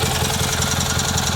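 A Kohler Magnum M18 engine on a Cub Cadet 1882 garden tractor runs close and loud with a fast, rough, pulsing chug as the throttle is given a little gas.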